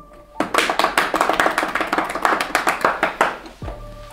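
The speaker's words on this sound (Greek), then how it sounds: "Χειροκρότημα" A burst of hand clapping, brisk and dense, rising suddenly and continuing for about three seconds before cutting off, close and fairly loud.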